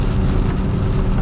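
Heavy rain drums steadily on a vehicle while driving in Arizona during a thunderstorm, a dense, continuous wash of noise close and loud, with no voices.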